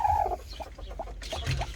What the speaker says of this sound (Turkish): Tavuğumuz burada.